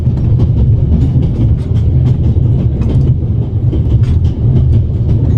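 A passenger train in a video game rolls along steadily, a loud continuous low rumble with rhythmic clickety-clack of wheels over rail joints and no voices.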